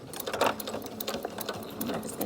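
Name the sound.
sewing machine stitching fabric mask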